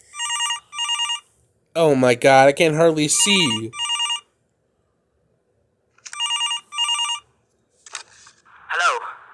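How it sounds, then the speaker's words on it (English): Telephone ringing in the FNAF fan game Five Nights At Boscos, sharp electronic ring bursts repeating at a regular rhythm, loud and close. A person exclaims over some of the rings, and there are pauses between groups. "Ooh, phone call."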